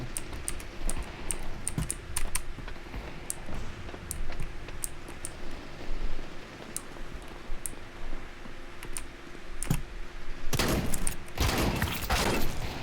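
Shotgun fire in the video game Crysis 2 Remastered, a few loud broadband blasts near the end following a stretch of faint clicking and background game noise, with no talk.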